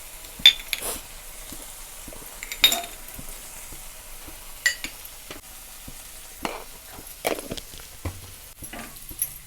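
Spices being stirred into a cauliflower masala paste frying in oil in a pan, with scattered spoon scrapes and clinks over a low, steady sizzle.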